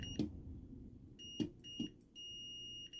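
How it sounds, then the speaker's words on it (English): Faint high electronic beeps from a pinball machine sound in short bursts, then a longer steady tone, amid a few soft clicks and knocks close by. "listen for the beep"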